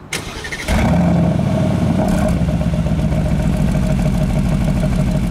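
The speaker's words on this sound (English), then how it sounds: "the exhaust in this car, which sounds pretty good. Take a listen at startup." A 2021 Aston Martin Vantage Roadster fires up: a brief starter whirr, then a sudden loud exhaust bark that settles into a deep, steady, rumbling idle, close and alone.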